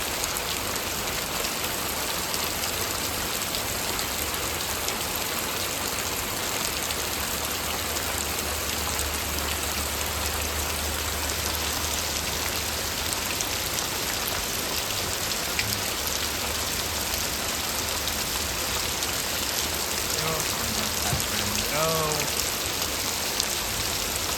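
Heavy unseasonal monsoon downpour in Botad village, Gujarat, a dense steady hiss of rain drumming on surfaces throughout, with a low rumble early on and faint brief sounds near the end.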